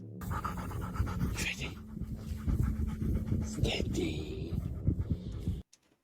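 A dog pants in slow-motion footage played back, a steady rapid panting close to the microphone, with some faint voice or breathy sounds mixed in for about five and a half seconds before it cuts off.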